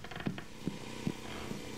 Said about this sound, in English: Let me close all the doors now.